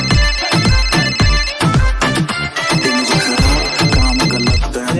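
A phone rings with a loud, rhythmic musical ringtone, its pulsing beats and melody continuing steadily without pause throughout.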